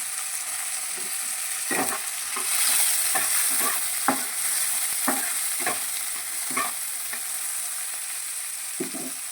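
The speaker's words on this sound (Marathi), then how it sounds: "टमॅटो टमॅटो बी चांगला फ्राय होऊ द्यायचा" Tomatoes frying in a pan, a soft continuous sizzle broken by regular scraping strokes of a spoon stirring, roughly one each second, near and moderately loud with no talking.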